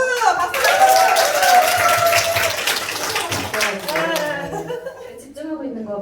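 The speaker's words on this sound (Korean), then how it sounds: "박수! 박수!" Audience clapping at a Korean business seminar in Yongin, dense and steady through most of the stretch, mixed with talk and some chuckling before it thins out near the end.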